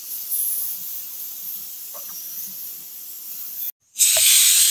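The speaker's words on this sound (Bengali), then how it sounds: "3টে সিটি দিয়ে আমি নামিয়ে নিলাম প্রেসার কুকারটা।" A pressure cooker on a gas stove hisses steadily with a bright, close steam sound, then cuts off briefly before a louder burst of hiss returns.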